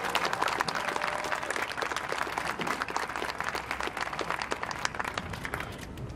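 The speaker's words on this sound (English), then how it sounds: "Another round of applause for our special guests." Audience applause for special guests at a Minnesota public school district event in White Bear, steady dense clapping from a crowd filling the room for about six seconds before tapering slightly at the end.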